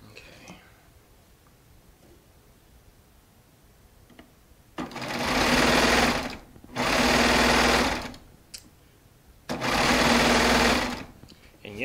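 A Baby Lock Triumph serger runs over Shannon Cuddle fabric strips in three loud, steady bursts of a few seconds each, separated by short pauses with faint background sound.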